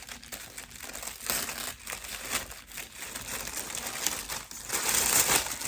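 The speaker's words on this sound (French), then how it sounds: "Là il y a du papier de soie." Tissue paper crinkles and rustles up close in irregular bursts, handled and unfolded for several seconds.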